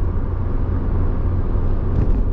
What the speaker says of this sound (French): Beaucoup de bruit de roulement.